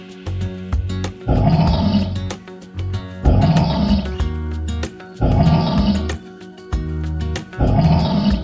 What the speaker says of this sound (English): Grizzly bear.